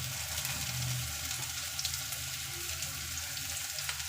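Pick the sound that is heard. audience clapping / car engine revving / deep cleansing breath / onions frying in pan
onions frying in pan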